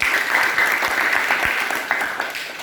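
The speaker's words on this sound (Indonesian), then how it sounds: "Tepuk tangan untuk kelompok 2 dulu." Classroom applause for a student group fills the room, a dense, steady clatter of many hands clapping together close by for the whole stretch, with no speech over it.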